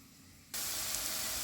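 A sudden, steady, loud sizzling hiss starts after a moment of quiet as carrots and onions hit hot vegetable oil and butter in a pan.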